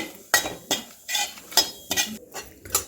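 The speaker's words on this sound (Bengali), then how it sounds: "ফোড়নের মশলাটা একটু নেড়ে নেব" Whole cumin, a dry red chilli and a bay leaf are stirred in hot oil, giving about eight quick, close metallic scrapes and clinks of a spoon against the pan in a fairly even rhythm, with no voices.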